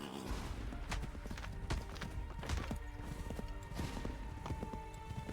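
Horse hooves clatter in a quick irregular rhythm in the video game Assassin's Creed III, close and fairly loud over a low background of game ambience.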